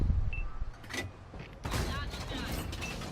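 The Grille 15 tank destroyer's gun fires in World of Tanks with a heavy boom and a lingering rumble. Someone talks over it, and softer game mechanical sounds surround the shot.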